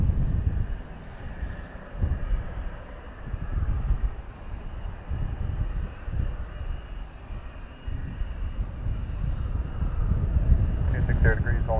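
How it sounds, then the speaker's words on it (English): A Qatar Airways airliner taxis at Dublin Airport, its engines a steady low rumble under outdoor wind noise while someone talks close by. "Qatar taxiing towards me now as well."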